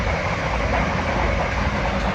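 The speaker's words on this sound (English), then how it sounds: "there's the train again, there's a lot of trains" A train rolls past near a farm raising organic pigs, a continuous loud rumble with rail clatter and broad rushing noise, close by and uninterrupted.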